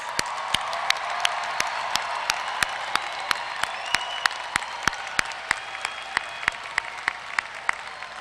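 Large audience applauding standing graduates at a university spring commencement, a broad continuous wash of clapping and some cheering, with a few sharp, close individual claps punctuating it regularly.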